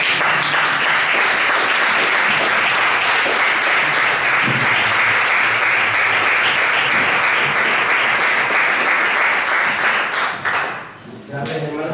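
A church congregation applauds loudly and steadily as a single sustained wave of dense clapping that fades near the end, with faint voices under it.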